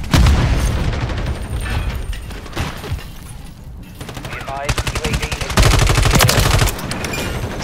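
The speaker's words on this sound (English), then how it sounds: "Taking effective fire." Heavy automatic gunfire from a Call of Duty Modern Warfare 3 multiplayer match, loud and continuous with rapid bursts, booming impacts and a brief lull, as game voice lines sound faintly underneath.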